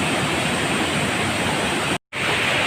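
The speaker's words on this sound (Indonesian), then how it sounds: "itu ada air terjun" A waterfall at Leuwi Ceupet, a clear, untouched river spot, roars as a dense, unbroken rush of water close by, loud and constant apart from one brief cut.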